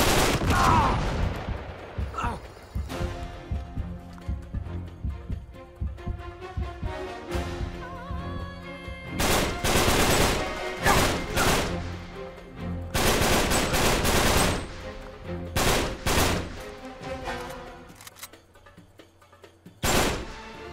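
Gunfire in Uncharted 3: Drake's Deception, with repeated loud bursts of automatic fire and single shots alongside music and game effects, some bursts dense and sustained, others sharp and isolated.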